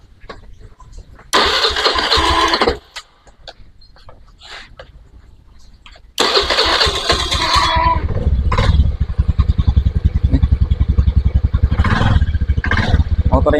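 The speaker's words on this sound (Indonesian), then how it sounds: "saya akan coba hidupkan motor ini" A motorcycle with its fuse and battery in place is started after sitting dead, with bursts of starter cranking and then the engine catching into a loud, close, rapid idle.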